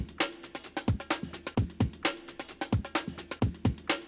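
Breakbeat layered with extra kicks, snares and hi-hats in Ableton Live, a swung, punchy loop of tightly repeating hits with bright hat ticks, loud and up front with no voices.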